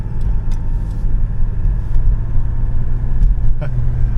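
A 1985 BMW 635 CSi with electrical gremlins pulls away, its engine a steady, close low rumble that holds even as it drives off, with faint clicks and knocks over the top.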